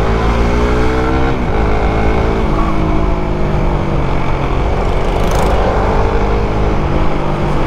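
Suzuki Raider 150 fuel-injected motorcycle on the move, its engine droning loud and continuous close by with pitch rising and dipping through smooth shifts and downshifts made without the clutch, wind noise throughout.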